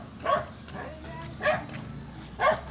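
A Shih Tzu gives three short barks or yips at roughly one-second intervals, close by and moderately loud, with low household background noise between them.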